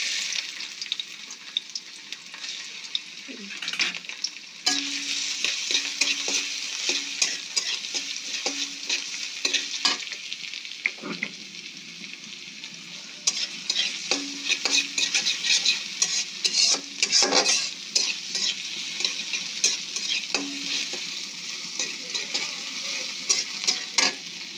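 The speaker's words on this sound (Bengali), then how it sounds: "এবার কড়াইতে দিয়ে দেব সরিষার তেল, তারপরে দিয়ে দেব পেঁয়াজ" Onions frying in mustard oil in a kadai give a steady, close sizzle throughout, broken by repeated scrapes and clinks of a stirring spoon against the pan.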